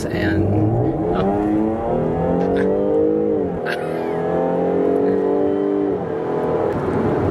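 A British car's engine roars and revs in sport mode, rising and falling in pitch as it accelerates, close and loud, with a brief spoken word.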